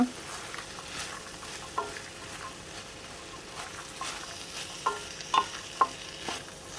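Sprouted legumes stirred into fried onions in a pan, giving a soft continuous scraping with a few sharper clicks of the spoon against the metal, close by and fairly quiet, with no talking.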